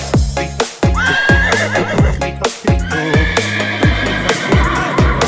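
Rhythmic percussive knocks in a steady trotting beat, resembling clip-clopping hooves, layered over music with a sustained melodic line.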